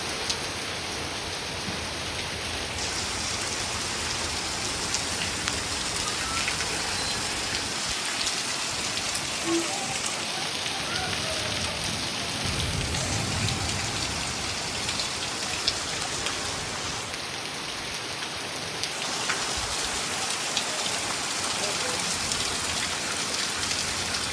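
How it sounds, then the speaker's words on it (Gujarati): Heavy rain pours down steadily in Vadnagar, Gujarat, a dense, unbroken hiss that stays loud and even from start to finish. "હા ફૂલ વરસાદ પડવા માંડ્યો."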